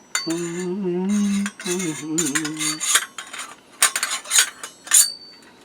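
A small metal top piece for a new fire stove scrapes, rubs and clanks against metal as it is tried for fit, with close, loud grinding passes followed by sharper irregular clinks.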